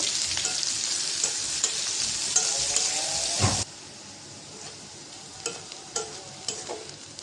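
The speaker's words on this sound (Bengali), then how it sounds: "তেল দিয়ে দিলাম পেঁয়াজ কুচি পেঁয়াজটা একটু ভেজে নেব" Loud, hissing sizzle of chopped onion frying in oil with a few stirring clinks, then the sizzle abruptly drops to a quieter background with occasional taps.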